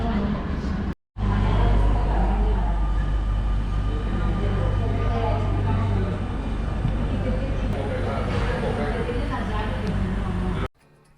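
A Barcelona metro subway train arrives at the station, giving a loud, steady rumble with low hum that fills nearly the whole stretch, briefly cut by a short gap near the start.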